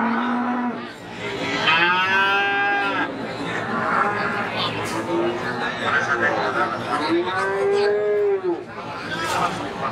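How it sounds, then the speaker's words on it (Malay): Cattle lowing repeatedly at a livestock market for young breeding bulls, long drawn-out moos rising and falling over a busy crowd murmur, with people chattering throughout. "Nah, ini sapinya, guys."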